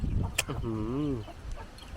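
Chickens on a Lao farm cluck and squawk close by in short bursts, with a voice talking over them.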